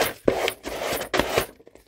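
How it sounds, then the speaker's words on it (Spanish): A box is sanded by hand with sandpaper, producing repeated rough rasping strokes in an irregular rhythm, close and fairly loud, with short pauses between strokes. "A ver, vamos a lijar."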